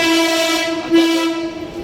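A Mumbai local fast train sounds its horn in a loud, close, sustained tonal blast that holds nearly two seconds over rumbling rail noise, then cuts off abruptly.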